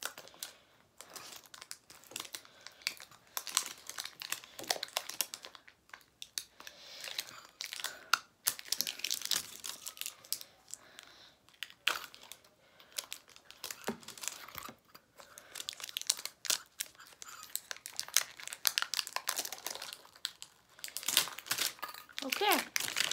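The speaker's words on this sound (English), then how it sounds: "next plastic opened" A plastic Pokémon card pack wrapper crinkles and crunches at close range in repeated bursts, with a voice and other talk mixed in between.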